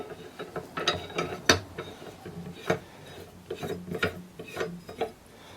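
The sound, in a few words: threading a rifle receiver onto the barrel by hand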